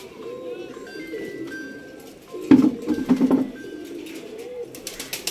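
Pigeons coo in a cage, soft rolling calls layered with a few brighter notes, then a brief louder burst of fluttering and scuffling midway before quieter cooing resumes.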